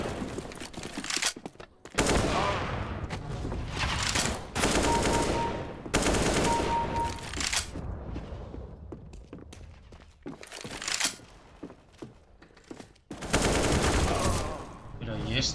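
Bursts of automatic gunfire from a CS:GO match, loud and dense in several stretches separated by brief lulls, with scattered single shots and impacts between them.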